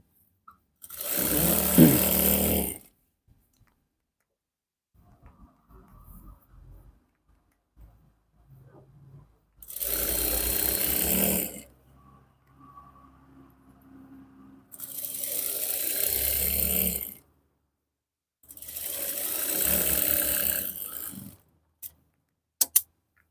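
A sewing machine stitching pajamas runs in four loud, steady bursts of several seconds each, separated by quiet gaps with faint handling clicks, near and clear.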